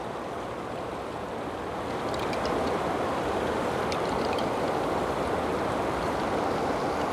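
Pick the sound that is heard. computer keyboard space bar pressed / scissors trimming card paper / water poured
water poured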